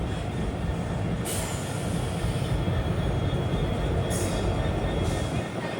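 Intercity Express train with a WDP4 diesel locomotive arriving at Virudhunagar Junction, a steady loud rumble of wheels and engine running throughout, with brief hissing bursts rising over the roar.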